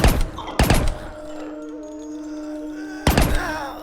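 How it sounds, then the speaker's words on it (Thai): Two or three muffled, thudding suppressed gunshots in the zombie shooter game She Will Shoot, each a short sharp burst separated by quieter ambience with a faint tonal hum, fairly close and not loud. "อุ้ยปืนเก็บเสียงด้วยนะฮะโคตรโหด"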